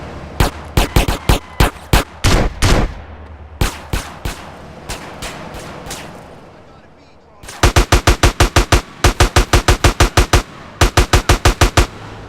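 Rapid bursts of gunfire from the GTA San Andreas video game, with loud repeated shots in volleys, a brief lull near the middle and then a steady run of sharp shots.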